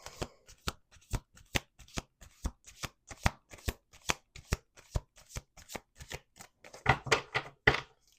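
A deck of playing cards being riffle-shuffled over and over, each shuffle a crisp, close burst of fluttering card snaps in a steady rhythm, growing denser and louder near the end.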